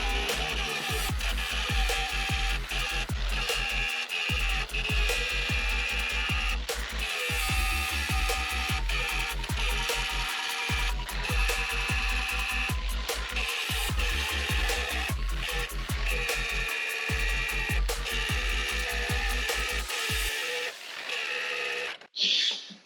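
A battery-operated Harbor Freight grinder turning about 8,000 RPM shaves down rivnut holes in the sheet metal of a Silverado tailgate, giving a loud, steady whining grind with repeated brief pauses, then stopping near the end.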